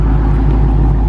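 A Dodge SRT 392 Scat Pack with a mid muffler delete gives off a deep, steady exhaust rumble, loud and close, holding an even drone throughout with no voices.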